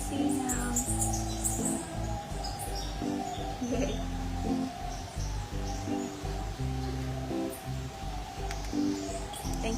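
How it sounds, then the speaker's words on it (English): Diamond doves in a garden aviary give repeated soft hooting coos in a droning, rhythmic pattern, with scattered higher chirps from other birds over a low constant background hum. "There's a droning, hooting sound in the back. That's the diamondback doves."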